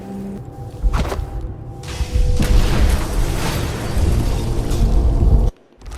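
In the video game Dishonored 2, an explosion erupts with deep rumbling booms and crackling debris, a thump near the one-second mark leading into a sustained loud roar that cuts off abruptly near the end.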